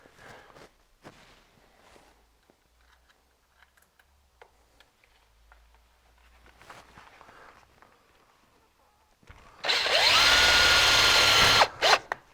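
Power drill driving a screw to fasten a Snirt Stopper bottom seal, a loud whirring burst of a couple of seconds after quiet handling clicks and shuffling.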